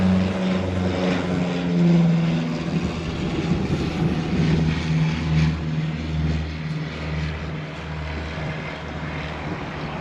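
Large airliner arriving at a Hawaii airport, heard as a steady low engine drone with a droning hum and broadband rumble, moderately loud and fairly close, with no talking.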